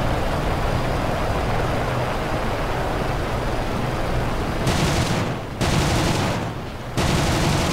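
Rapid aircraft cannon and machine-gun fire rattles continuously in a War Thunder air battle over Malta with a BF109F4/trop, a dense fusillade under steady engine roar that cuts off briefly twice near the end.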